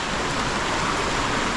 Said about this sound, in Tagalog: mahina yung ulan dito